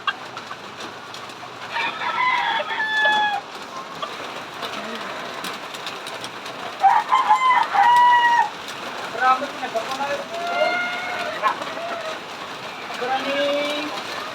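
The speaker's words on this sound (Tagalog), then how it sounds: "Kunti lang yung manok pero magaganda." Roosters crow repeatedly nearby and farther off on a farm, with hens clucking and people talking under the calls outdoors.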